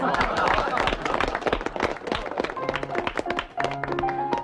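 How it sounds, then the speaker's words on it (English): Loud applause from a group at a social gathering, dense clapping with taps and footsteps, voices chattering throughout and a few short musical tones near the end. "Loud applause."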